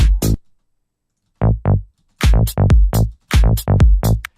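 Bass sound: short, punchy, loud bass stabs in a syncopated rhythm, two isolated hits then a rapid cluster of repeated hits after a brief pause.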